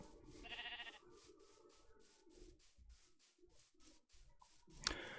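A Minecraft sheep gives one short bleat near the start, faint and set against a quiet, regular pattern of soft footsteps and a brief sharp click near the end, with no talking.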